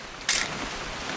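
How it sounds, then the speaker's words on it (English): A single short camera shutter click in the video game What Remains of Edith Finch, one crisp snap near the start followed by quiet ambient hiss, with faint rain-like noise behind and no voices. "Just want to get a shot of you, Dawn, then we can take off."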